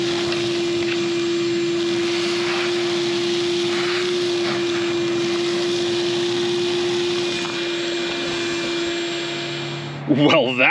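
A vacuum at an abandoned gold mine pulls up gold-bearing material with a steady loud whine and rushing airflow, a droning tone held for about ten seconds before a brief burst of clatter near the end.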